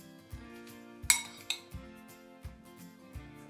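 Crushing juniper berries for a homemade bacon cure, heard as a handful of sharp clinking taps of hard utensils on a dish at an uneven pace, fairly quiet.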